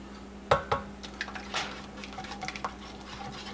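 Cooked macaroni poured back into a cooking pot for macaroni and cheese, with a sharp metallic clang of utensil on pot followed by lighter scraping clinks and soft wet stirring.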